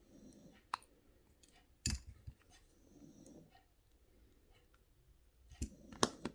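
Jewellery wire snipped with pliers for a wire-wrapped pendant, a few sharp isolated clicks standing out against a very quiet background.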